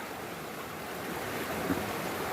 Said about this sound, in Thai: น้ำไหลเชี่ยวอยู่